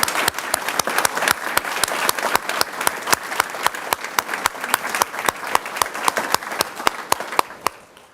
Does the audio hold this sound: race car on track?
no